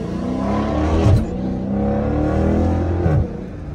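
A car in track mode accelerates hard, its engine note climbing through two rising surges with a brief dip between, loud and close from inside the cabin.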